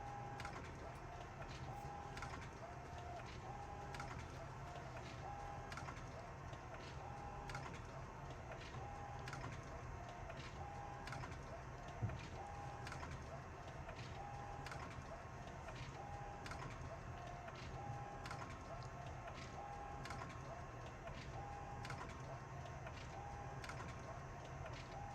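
An Epson F570 sublimation printer runs steadily while printing a sweatshirt transfer, its carriage ticking in a regular repeating rhythm over a constant low mechanical hum, moderately quiet and close.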